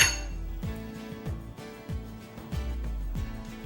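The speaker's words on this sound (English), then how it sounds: "Just going to stir that up." A spoon stirs cornmeal, sugar, salt and baking powder in a mixing bowl for cornbread, giving a steady rhythm of light, close clinks and scrapes against the bowl, with no talking.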